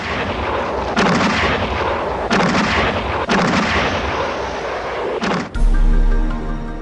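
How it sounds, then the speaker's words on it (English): Heavy naval artillery bombardment from warships during a war, rendered as a sound effect: a series of loud, deep booming blasts with rumbling tails at roughly one-second intervals, ending in a sustained low roar. "After fierce bombardment from warships, air attacks and infantry landings were started."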